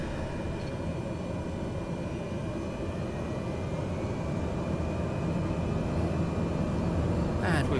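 A propeller aircraft's engine drones steadily as power builds gently for takeoff in a crosswind, a continuous loud cabin hum that rises slightly toward the end.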